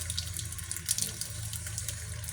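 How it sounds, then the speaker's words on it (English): Water runs weakly from a low-pressure tap in a rented apartment, a thin steady hiss of flow, fairly quiet and continuous with no talking. "it had really low water pressure"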